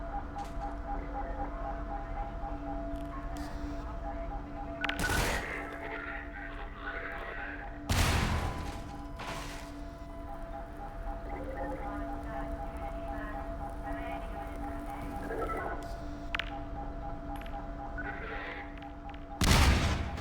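Grenade blasts and gunfire in Half-Life 2 played in VR: a few sharp, loud bangs spaced several seconds apart over a steady ticking game background.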